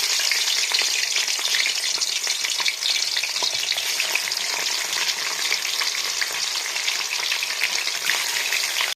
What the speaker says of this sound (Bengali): মাছটা এখানে ভেজে নেব।